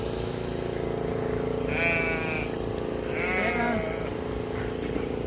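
Sheep bleat twice, clear and fairly close, over a steady engine-like drone in an outdoor farm setting.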